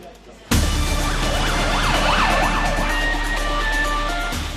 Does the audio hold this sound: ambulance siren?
yes